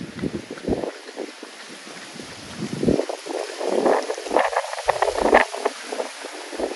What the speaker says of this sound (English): See the palm trees here blowing away, still very windy